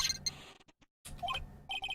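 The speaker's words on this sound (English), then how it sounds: "Mr. Attorney, you're not answering a phone" An in-game telephone rings in Ace Attorney: Justice for All, a series of short electronic ringing bursts separated by a brief silent gap, with no voices.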